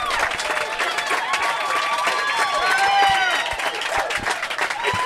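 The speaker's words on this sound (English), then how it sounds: "And a thunderous round of applause from the crowd" A crowd applauds and cheers at a pro mixed doubles pickleball match at the 2020 Florida Grand Slam. The clapping is dense and sustained, with whistles and voices mixed in throughout.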